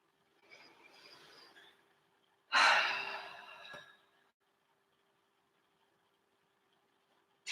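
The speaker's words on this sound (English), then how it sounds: "I'll be sitting, catching my breath again." Heavy breathing during a yoga class as someone catches their breath: soft faint breaths early on, then one strong close exhale that fades into quiet.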